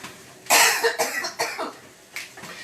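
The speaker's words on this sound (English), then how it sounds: "I got a cough now." A person coughs several times in short, close bursts, with brief pauses between.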